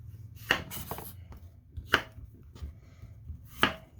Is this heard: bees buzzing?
no